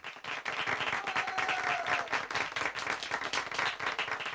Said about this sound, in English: Let's have a huge round of applause for all of our Student Award winners and nominees.